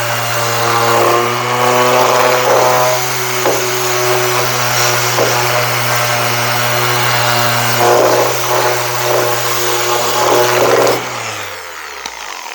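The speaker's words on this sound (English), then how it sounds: "I'm all done with sanding all my weld" A loud power sander whirs steadily against welds on the metal body of a 1968 Pontiac GTO, with a droning motor tone and gritty scraping before it spins down at the end.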